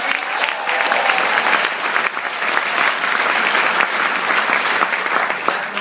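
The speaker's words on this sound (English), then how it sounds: "Round of applause for everybody who's here today." Sustained audience applause at a regional success training event in Toronto, a dense, even roar of many hands clapping with a few sharper claps standing out.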